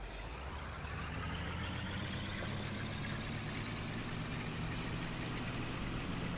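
A diesel locomotive engine approaches on the 1950s Riviera Line in Train Simulator 2021, a loud, dense, continuous rumble that holds steady without a break.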